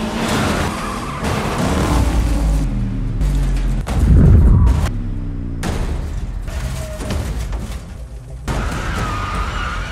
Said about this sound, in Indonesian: Fokusnya teralihkan, mobil mereka bergeser dan mobil John terbalik